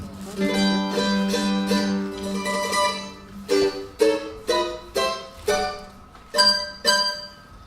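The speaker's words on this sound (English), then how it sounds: "And this is the sound of a round-hole mandolin." A round-hole mandolin played in a workshop setting, opening with a sustained tremolo-picked passage, then a series of separate plucked chords that ring out and fade, close and alone.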